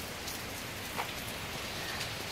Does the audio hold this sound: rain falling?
yes